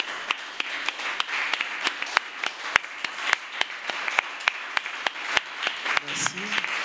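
A church congregation clapping to acclaim Jesus, a dense, ongoing applause with sharp, evenly spaced claps standing out, and a voice calling out briefly near the end.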